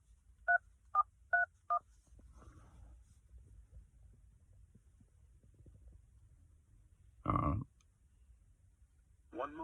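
Four short telephone keypad tones entered in quick succession during an automated FBI Boston office phone call, clear against a quiet line. A brief louder burst and faint line noise follow afterward.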